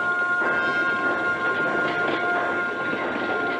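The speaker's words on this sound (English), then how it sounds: "The train bearing the body of Franklin Delano Roosevelt moves slowly from Warm Springs, Georgia, toward the nation's capital." A train bearing a body moves slowly from Warm Springs, Georgia: a continuous low rumble of rolling cars with steady tonal hums and whines, heard alone at an even, fairly loud level.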